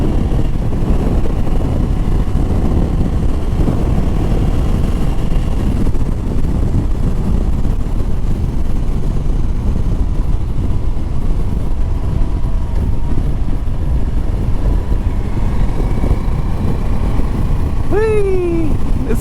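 A 2024 Moto Morini Calibro Bagger motorcycle rumbles at a steady cruise on a test ride, its engine drone mixed with heavy wind buffeting on the microphone and brief revs near the end.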